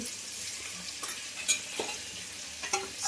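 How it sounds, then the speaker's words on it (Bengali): Ground cumin, turmeric and salt fry in hot oil in a pan, a soft continuous sizzle broken by intermittent stirring clinks and scrapes, no voices. "যেহেতু মশলাটাকে ভেজে নিই।"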